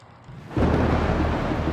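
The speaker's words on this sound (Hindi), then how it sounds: "बारिश, बिजली का कड़कना और ओले भी गिरे।" A sudden broadband roar bursts in after a quiet half second and holds loud and steady: heavy storm rain with thunder and hail, record downpour, continuous and close.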